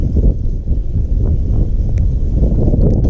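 Strong wind roars steadily across a wind-blown lake point during a December bass fishing trip, a loud, constant buffeting rumble on the microphone with no talk.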